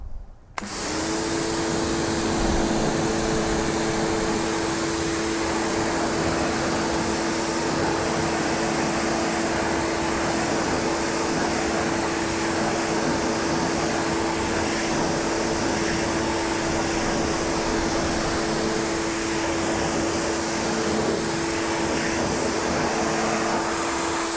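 A water sprayer rinses a car wheel after cleaner has been scrubbed in, giving a loud, continuous hissing rush that holds steady for the whole stretch without a break.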